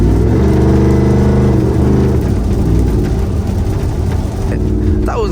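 A lifted Ford F150 with a tuned 5.0 Coyote V8 on E85 and a Borla Atak exhaust drones loudly and steadily, with a deep, constant engine tone heard from inside the cab.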